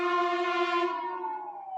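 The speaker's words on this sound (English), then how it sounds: "As you hear these sirens going back and forth" Sirens pass back and forth in South Los Angeles: one loud, strongly tonal wail holds steady and then slowly sinks in pitch as it moves away, with no voices over it.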